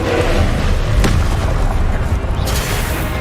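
A Confringo spell from Harry Potter detonates in a loud, full-bodied boom, with a sharp burst near the start and a dense rumbling roar that carries through to the end.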